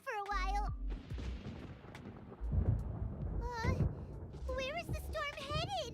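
Video game thunderstorm with low rumbling thunder rolls in two bursts, mostly heard beneath animated character voices talking over it.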